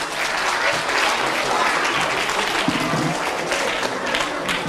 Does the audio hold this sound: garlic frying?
no